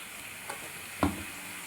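Chicken pieces fry in a pan for chilli chicken with a steady, even sizzle, and a couple of brief stirring knocks cut through it. Nobody speaks.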